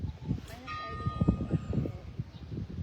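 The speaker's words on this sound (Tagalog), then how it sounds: "Ang ganda naman ng bell ako." A church bell rings at a death anniversary gathering in Minglanilla, Cebu, a brief sustained ringing tone beneath a low murmur of voices and movement.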